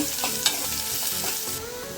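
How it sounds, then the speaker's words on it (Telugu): Loud, dense crackling sizzle of mustard seeds popping in hot oil for tempering, continuous with a brief sharp pop. "పోపు ఎగిపోయిందండి"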